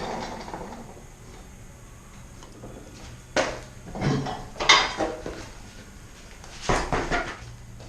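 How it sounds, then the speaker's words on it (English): A padlock is taken off a heavy-duty cable lock securing a spare off-road tire on the rear carrier of a 2004 Nissan Xterra, giving several close metallic clanks, rattles and clicks in irregular bursts. "So I'm going to go ahead and take the padlock off and I'll show you how it attaches."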